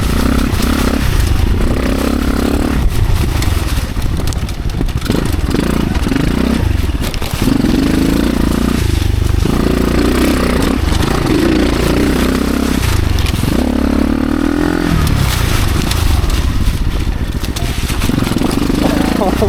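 A motorcycle engine revs hard while riding in second gear, a loud continuous roar with rising and falling pitch and heavy wind buffeting, and a rider's voice speaks over it.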